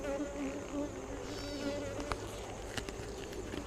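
Honey bees drone steadily during a hive inspection, a close, continuous buzz with wavering pitch and a few light handling knocks.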